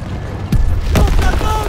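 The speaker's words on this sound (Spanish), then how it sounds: "¡Esa granada!" A grenade blast in the World War II shooter Call of Duty WW2, a sudden loud boom with a low rumble that tails off amid ongoing battle noise and a shouting voice.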